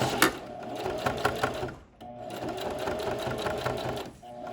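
A sewing machine back stitches the hem of a fabric sheet mask in two close, steady bursts of fast whirring stitches with a brief stop between them.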